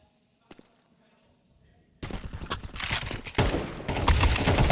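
Gunfire in a Counter-Strike match between Falcons and HEROIC at IEM Dallas 2025, including wall-bang shots. Near silence gives way to sudden, loud, dense rapid shooting that continues to the end.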